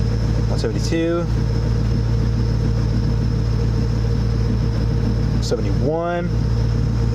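A Terminator Cobra's engine idles with a steady, even low rumble that holds throughout, while a man briefly reads out numbers in between.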